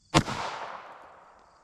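A single sharp shot from a Taurus GX4 9mm pistol firing a Lehigh Defense 90gr Xtreme Defense round, loud and close, followed by a decaying outdoor echo.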